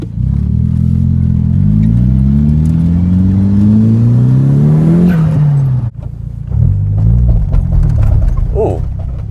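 A Nissan S13 180SX Type-X accelerates hard from inside the cabin, engine revs climbing through gears in rising sweeps, a shift break, then pulling again loudly and close.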